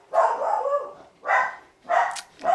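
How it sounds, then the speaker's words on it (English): A dog barks four times in quick succession, close and fairly loud, with short gaps between the barks and no talking. "Got the dog barking."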